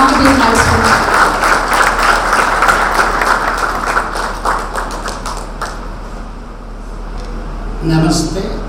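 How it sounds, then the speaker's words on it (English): An audience at a graduation ceremony applauds to welcome a guest: a dense wash of many hands clapping, steady and fairly close, fading over several seconds before a brief swell near the end. "Let us all join in a heartfelt round of applause to welcome our esteemed guest"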